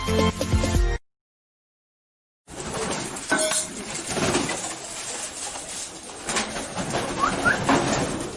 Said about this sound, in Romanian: Porumbei acum mănâncă.